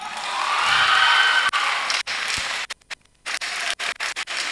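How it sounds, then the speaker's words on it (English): A semi-final audience at a national public speaking competition applauds loudly for a runner-up school. Dense, steady clapping swells for about a second and a half, then breaks into a patchy, thinning spatter with brief gaps as it dies away. "a round of applause for Northern for coming second"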